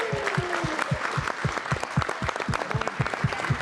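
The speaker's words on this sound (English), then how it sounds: "Another round of applause." Applause at a Christmas Daddies charity telethon, a room of clappers with steady clapping and a sharper, regular clap up front, loud and continuous with a little crowd noise underneath.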